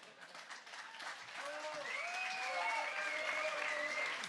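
An audience at a science slam breaks into applause, sustained clapping building and holding with a few high whoops and cheers rising over it.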